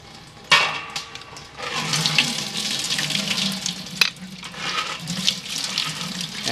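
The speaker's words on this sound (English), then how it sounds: "the food mill is going to take out the seeds and the skins and let the juice flow through." Tomato juice runs steadily through a food mill into a large pot as seeds and skins are strained out, a continuous close splashing, trickling flow with a sharp knock near the start and another partway through.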